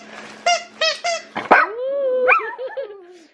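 A pet dog barks at a wrapped Christmas present indoors: three short, sharp barks in a quick row, then a louder yelp sliding into a long, rising and falling whine, all close and clear with no talk.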